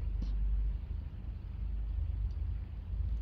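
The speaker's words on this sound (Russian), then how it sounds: "Мотор идет." Steady low engine rumble of a fire truck idling near a rescue crew, continuous and fairly loud throughout with no clear speech over it.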